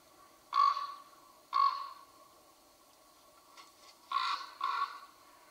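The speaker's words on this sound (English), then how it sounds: "when you hear the sound of a raven?" A raven calling alone, four harsh croaking caws in two pairs, clear and fairly close against a quiet background.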